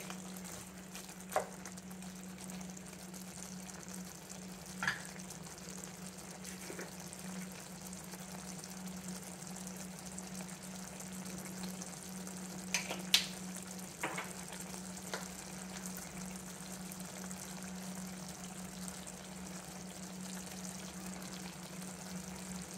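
Prawn masala gravy bubbles and sizzles faintly in a pan as turmeric, salt and chili are added, a soft steady fry broken by a few light clicks and taps.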